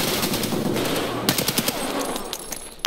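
Automatic gunfire in the video game Escape From Tarkov rattles out in dense, rapid bursts, loud and close, filling the whole stretch with sharp overlapping cracks.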